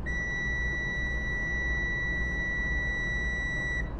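A single high-pitched electronic key-on beep from a Penske rental truck's dashboard holds steadily for about four seconds over a low engine rumble, then stops.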